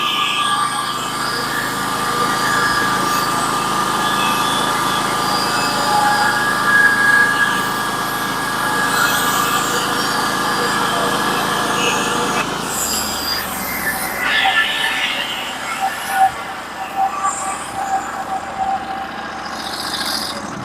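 A sawmill cuts a large spruce log into thick 10/4 boards, 12 inches wide and 9 feet long, with a loud continuous engine and blade drone that shifts and thins out partway through, as though the cut ends and the carriage returns.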